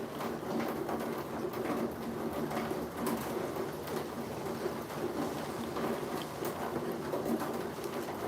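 Steady rain falls outdoors in Florida, a dense continuous hiss with no breaks, along with occasional bird calls and cooing.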